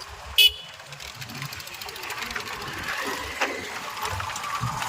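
A brief, sharp motorbike horn toot near the start as it approaches, followed by a steady road rumble and engine noise with faint voices in the background.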